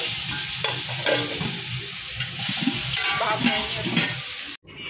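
Shrimp and pipli greens curry sizzles in a pan as it is stirred, a loud continuous frying hiss with scraping spatula strokes, ending in a brief cut-off near the end.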